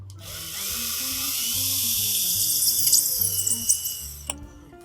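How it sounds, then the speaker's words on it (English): A power drill whines steadily as a tap-sized bit bores all the way through a plastic blaster kit part, the pitch shifting slightly as it works, with music playing quietly underneath. "Now I'm going to drill all the way through with the tap-sized drill bit."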